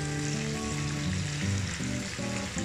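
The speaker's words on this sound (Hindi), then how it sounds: "बस थोड़ा सा गोल्डन फ्राई कर लें इसको और उसके बाद इसको आप निकालें।" Fish for a fish karahi fries in a pan with a dense, steady, loud sizzle throughout. Shifting tonal sounds like a melody sit underneath it.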